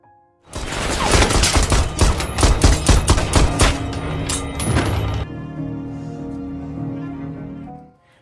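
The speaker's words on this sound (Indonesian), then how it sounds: "ia keluar dari bawah kasur dan langsung menembaki Safin yang mendekati dirinya" Rapid gunfire from a James Bond film scene rings out loud and close, a dense fusillade of sharp shots for about five seconds, then gives way to a lower sustained drone that fades at the end.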